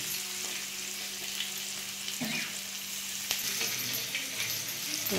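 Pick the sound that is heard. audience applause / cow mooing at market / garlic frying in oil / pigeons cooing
garlic frying in oil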